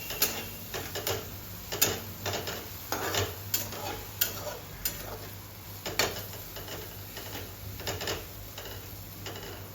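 Kothimbir vadi mixture being sautéed in a pan, a quiet continuous scraping and clicking of a spoon stirring in an irregular rhythm over a low steady hum.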